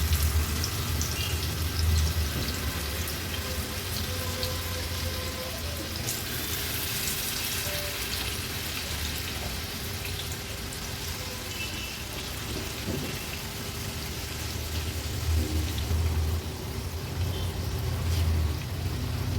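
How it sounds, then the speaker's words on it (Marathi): Agri-Koli style rawas fish pieces coated in masala shallow-fry in hot oil on a tava, making a soft, continuous crackling sizzle at a moderate, even level. "आता एक एक करून ह्या रावसाच्या तुकड्या तेलावर सोडते"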